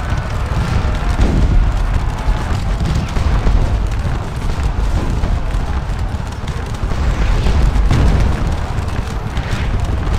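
Cannon and shell explosions from a Battle of Waterloo real-time strategy game form a loud, dense wall of rumbling booms and bursts that rolls on continuously without a break.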